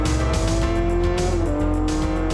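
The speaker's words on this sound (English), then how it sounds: "This is a very long banked corner where the car has understeer." Formula 1 race car taking a very long banked corner with understeer, a loud sustained engine whine with a steady pitch that dips slightly midway, and tyre noise underneath.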